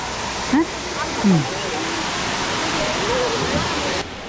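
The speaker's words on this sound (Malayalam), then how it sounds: "ഇത് പക്ഷേ വെള്ളച്ചാട്ടം കണ്ടോ കേട്ടോ" Waterfall at a bird park in Areekkal, a steady broadband rushing roar of falling water, constant and fairly loud, with brief voices over it.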